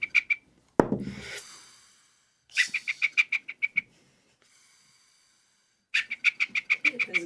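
A yellow bird gives bursts of rapid, high, repeated chirping notes in short clusters separated by silence, with a sharp knock between them.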